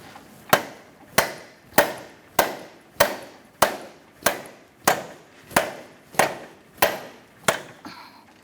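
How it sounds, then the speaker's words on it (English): A dead blow hammer or rubber mallet strikes a front CV axle on a 2012-2019 Fiat 500 1.4L, thirteen evenly spaced sharp knocks about two-thirds of a second apart, close and clear with no talking. "you can use a dead blow hammer, rubber mallet."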